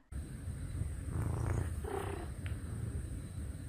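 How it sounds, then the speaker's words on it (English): A Maine Coon cat purrs steadily and close up, a continuous low rumbling purr with a few faint breathy chirps mixed in, with no other sounds. "She's a Maine Coon, and she makes sounds like..."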